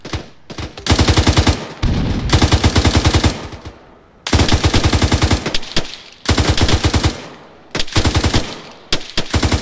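Rapid machine gun fire in the ARMA 3 game, loud and close, in long sustained bursts broken by brief pauses.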